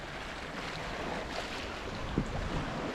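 A sailboat runs down the Irish coast under full main and a little headsail, with a steady wash of water and wind noise throughout and one brief knock partway through.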